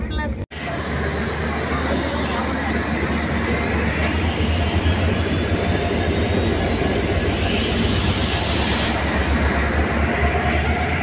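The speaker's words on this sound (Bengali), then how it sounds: "আমরা এখন ট্রেনে।" Inside an air-conditioned train on the Vizag to Kolkata route, a continuous rumble and rattle of the carriage rolling along the tracks. One sharp knock comes near the start, and a steady hiss sits under the roar throughout.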